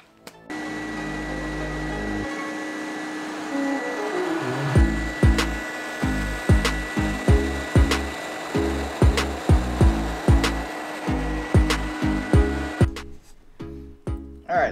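A CNC router in a home garage cuts a carbon fiber drone frame. A steady loud whine gives way to a long series of rhythmic, evenly spaced cutting bursts, close and loud, with no talking.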